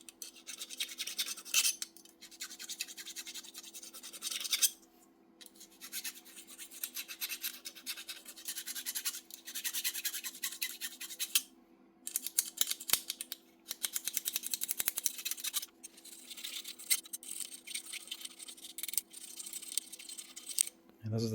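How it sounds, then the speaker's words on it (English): Small needle files rasp over metal parts from an old Hiretech HT8-1 floor drum sander, a quiet scratchy back-and-forth scraping in repeated bursts with short pauses, close up and continuing for a long stretch. "Wee small needle files all you need just to tidy these up"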